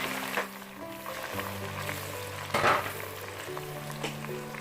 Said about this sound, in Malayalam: നമുക്ക് നമ്മൾ ഒരു ബൗൾ എടുത്ത് വെച്ചിട്ടുള്ള ഉള്ളി അതിലോട്ട് ഇട്ട് കൊടുക്കാം